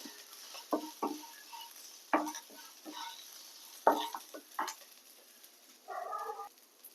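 Mint leaves fry in a pan for Tamil Nadu style pudina rice, quiet and close, with scattered scraping stir strokes over a faint sizzle and no talking.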